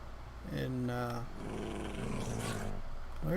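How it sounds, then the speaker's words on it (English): Angry dogs growl in the Minecraft video game, a low snarling rumble with harmonic tones that comes in bursts over steady background noise, close and fairly loud, with a player talking over it. "Then we have some angry sounding dogs over here in"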